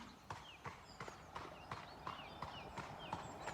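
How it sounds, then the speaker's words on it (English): A horse walks past on a hard surface, its hooves clip-clopping in an even, steady rhythm of about three strikes per second, moderately close, with faint birdsong chirping in the background. "There's a horse coming past, so we'll see how he is with that."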